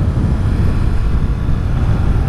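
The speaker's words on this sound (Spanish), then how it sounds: "esta moto tiene un sonido mucho más ronco, más de Tetra, y el silbidito se oye muy poco" Triumph Street Triple RS three-cylinder motorcycle engine running steadily, a loud, continuous low rumble with dense noise and no clear breaks or talk.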